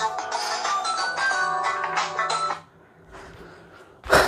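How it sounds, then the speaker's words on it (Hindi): A mobile phone rings during a classroom lesson on steel beam connection drawing, playing a loud tonal ringtone melody that stops abruptly, followed by a brief quiet gap and then a short final burst. "फ़ोन आ रहा है"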